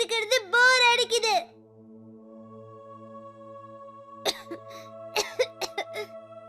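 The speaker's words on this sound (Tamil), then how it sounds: "மறுபடியும் இருமல் வந்துருச்சு பாரு" A young child coughs in a quick burst of several harsh coughs at close range, followed by quiet and then more scattered coughs and throat sounds indoors.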